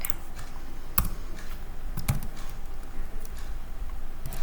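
A couple of sharp computer keyboard clicks as shortcut keys are pressed, spaced about a second apart over a steady background hum.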